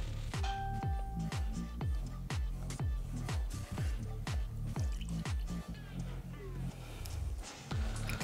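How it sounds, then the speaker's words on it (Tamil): Old Monk Gold Reserve rum, 30 ml, pours from a bottle into a glass as a rapid series of gurgling glugs and drips, close and clear, with someone talking briefly. "நான் ஒரு 30 ml போட்டுக்கிறேன்."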